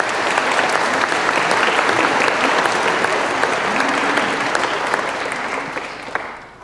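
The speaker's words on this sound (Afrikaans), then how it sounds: "En ek wil vra vir hulle ook 'n hande klap asseblief." A church congregation at a Sunday service applauds, a loud dense wash of many clapping hands that holds steady for several seconds before easing off, with faint voices mixed in.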